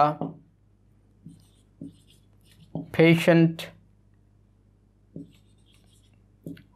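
Chalk or marker tapping and scraping on a classroom board during an English grammar lesson, a few short faint strokes spread across the stretch, with a brief burst of a teacher's voice in the middle.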